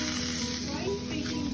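Steak sizzling on a grill, a loud, steady close-up crackle and hiss that fills the whole moment with no pauses.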